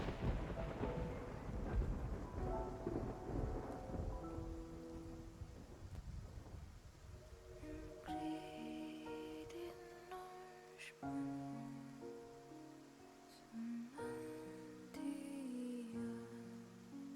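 A thunderstorm with rain at sea in the video game Love & Deepspace: deep rumbling thunder and rushing rain fill the first half, then fade as music takes over.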